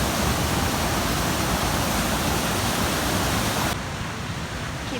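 Frank Falls in Temagami roars as a dense, steady rush of falling water, loud and close, with the level dropping slightly near the end.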